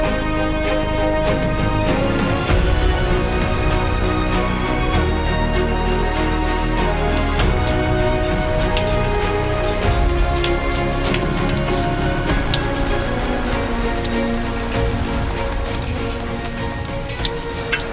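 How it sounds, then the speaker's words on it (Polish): Heavy rain falls outside in Lebanon, a dense continuous patter and splash with many sharp drips and clatters, loud and close, running unbroken with no voices. "Dzisiaj jest dalej deszczowo, chyba jeszcze gorzej niż wczoraj."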